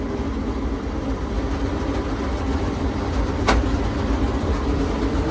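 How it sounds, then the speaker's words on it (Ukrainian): A John Deere 952 combine harvester runs with its header engaged, giving a steady, close, low mechanical rumble and drone with a brief clank partway through; no talk is heard. "Дуже тихо цей комбайник працює"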